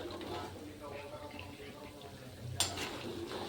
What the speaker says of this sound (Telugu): ఈ వడియాలు బ్రౌన్ కలర్లో వచ్చేంత వరకు వేయించుకోవాలి